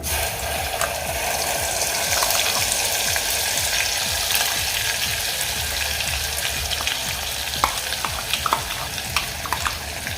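Ground masala paste fries in a pan for Puneri spicy misal, giving a steady, loud, close sizzle throughout, with scraping and clicking from a stirring spoon against the metal and no voices.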